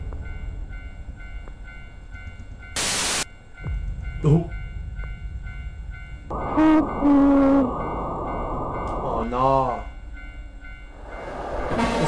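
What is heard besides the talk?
skull train passing in the horror video game Tsugunohi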